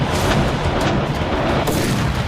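Indian Navy firing exercise in the Arabian Sea, with dense, continuous heavy gunfire and rumbling blasts forming a loud, saturated roar that barely lets up, close and overwhelming, with no voices.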